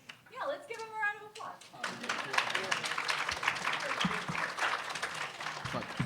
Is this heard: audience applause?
yes